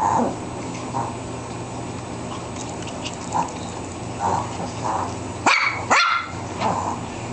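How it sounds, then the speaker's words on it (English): A dog barks repeatedly, several soft muffled barks spaced out then two louder close barks near the end, over a steady background hum. "Don't bark at me."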